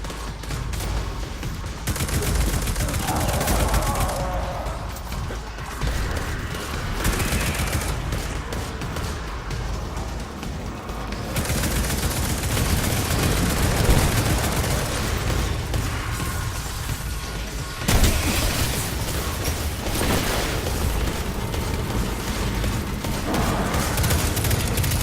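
Prospector grenade launcher in Destiny 2: a long, dense barrage of launches and booming blasts that overlap into a constant roar for about twenty-five seconds, with occasional sharper bursts and no speech.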